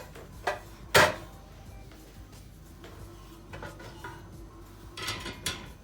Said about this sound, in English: I'm going to now get the jar out of the oven